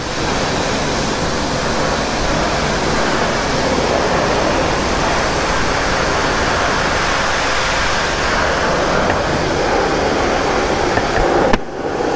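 Water sprayed onto a car at a car wash in Qatar, a loud, close, steady rushing hiss that runs unbroken for about twelve seconds with no talking, then a brief knock near the end.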